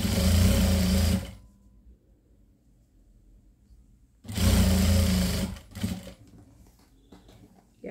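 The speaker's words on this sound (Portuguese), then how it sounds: "boto aqui em cima, arrumo direitinho e passo a costura em toda a lateralzinha" Sewing machine stitching along the side of fabric strips for a strip-pieced quilt, running in two loud sustained bursts with a quiet pause between and a shorter run at the end.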